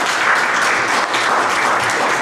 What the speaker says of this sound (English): Please give a big applause for this team.